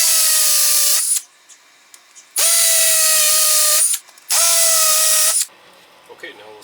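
Hammer drill fitted with a masonry bit, run in three loud bursts of a few seconds each, the high whine dropping in pitch as it bites, with brief quiet gaps between bursts.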